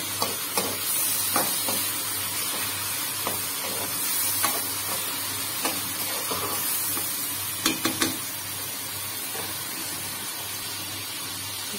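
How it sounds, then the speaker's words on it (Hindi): Spices dry-roasting in a pan, a soft steady sizzle with occasional sharp clicks and taps of a spoon stirring against the metal. "और इन सब मसालों को एक साथ भून लेंगे।"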